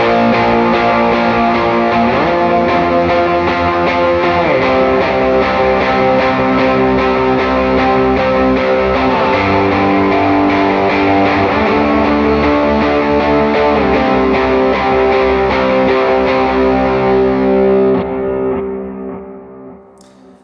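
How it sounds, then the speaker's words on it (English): Overdriven electric guitar plays power chords for a lead part, a dense, steady wash of sustained strums ringing on for about eighteen seconds before fading away. "And then if you play the power chord thing, which is what they actually do on the album"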